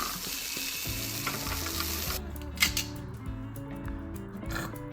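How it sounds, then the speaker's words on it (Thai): Eggs fry in a pan with a close, steady sizzling hiss that thins out partway through, leaving a softer fry with a brief clatter of utensils. "ก็ทอดไข่ต้องทอดไข่"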